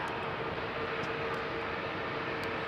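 Steady, broad roar of a jet airliner departing London Heathrow runway 27R, a JetBlue flight bound for New York, sustained and fairly distant throughout with no voices.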